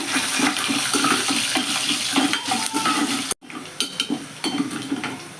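Cashew nuts and garlic sauté in a pan for garlic rice, a steady loud sizzle under busy scraping and clinks of a stirring spoon against the metal, broken briefly by a split-second gap.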